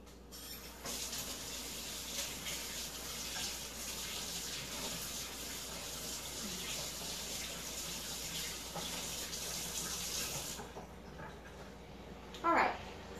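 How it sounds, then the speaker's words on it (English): Kitchen sink tap runs steadily for about ten seconds while hands are washed underneath, a close, continuous splashing hiss of water that cuts off abruptly near the end, followed by a brief clatter. "Okay, I'm going to go wash my hands really quick."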